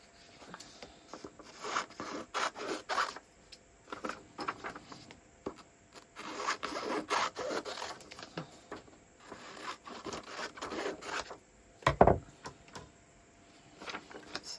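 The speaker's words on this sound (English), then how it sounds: "Come in with some slightly smaller scissors." Small scissors cut paper for a collage: quiet, irregular snips and rustling paper, close and faint, with a louder handling clack near the end and no talk.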